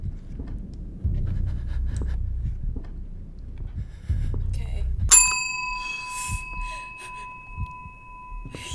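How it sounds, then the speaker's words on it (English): A bell chimes in the horror video game SUITE776, a single bright ring with a long sustained tone after low rumbling footsteps and ambient noise. "So I have to ring the bell again?"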